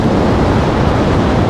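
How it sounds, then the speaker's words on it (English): Waves wash across a windy beach with cars parked in the water, a loud dense roar of surf and wind buffeting the microphone without a break. "the water's just moving across like crazy right here"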